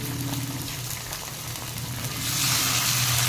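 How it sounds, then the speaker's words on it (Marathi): Tomato puree hits frying onions in a pan, giving a close, steady sizzle and crackle that swells louder toward the end. "आता याच्यामध्ये आपण ही टॉमॅटो प्युरी घालूया"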